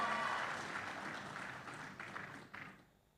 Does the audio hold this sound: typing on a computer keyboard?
no